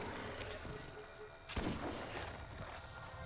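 A single sharp gunshot blast with a brief booming tail in the Borderlands shooter game, fairly faint against a murky background of game ambience.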